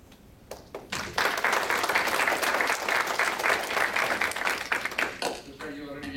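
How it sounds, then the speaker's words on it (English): A forum audience breaks into applause for a speaker at the end of a session, dense clapping that swells quickly, holds steady for several seconds, then thins out as a voice starts to speak. "A round of applause to Krishna for a great session"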